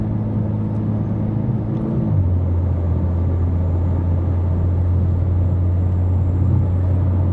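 A 700 hp BMW G87 M2 with a 4 inch downpipe exhaust holds a loud, steady low idle rumble that drops to a deeper, even drone after a couple of seconds, with no talk.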